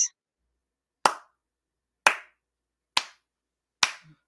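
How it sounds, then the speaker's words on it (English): Four sharp, isolated hand claps spaced about a second apart, slow and deliberate, with silence between each. "Slow clap."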